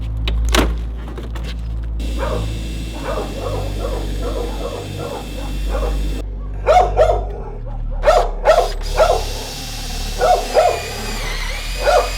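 Dog barking at a residence occupied by squatters, repeated sharp barks in bursts at moderate distance over a steady low hum, with a mechanical window whir earlier.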